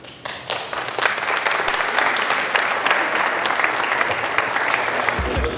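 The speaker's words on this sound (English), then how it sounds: "Let's give one more round of applause to these guys." An audience at a community forum on heroin and addiction breaks into a full round of applause, dense continuous clapping from many people that starts abruptly and holds steady, tailing off at the very end.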